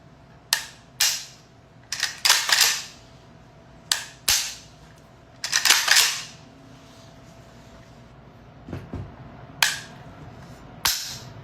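An AK-style air rifle fitted with a new trigger fires repeatedly, sharp close cracks spaced irregularly, some in quick pairs, over a quiet background.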